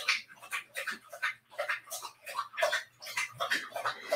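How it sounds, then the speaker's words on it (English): A dog laps water indoors in steady, quick bursts, about three slurps per second, close and moderately loud over a faint low hum. "I don't know if the ambiance of a dog drinking water helps."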